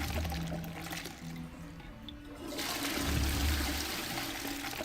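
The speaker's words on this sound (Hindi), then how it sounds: "पानी तो आ रहा है" Running water inside the video game Hogwarts Legacy makes a steady rushing, gurgling flow that swells louder partway through, heard alone without talk.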